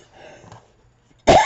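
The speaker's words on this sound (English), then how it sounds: "I've been having so much more problems with this coughing." A single loud cough bursts out suddenly after a quiet, faintly murmuring stretch, close to the listener.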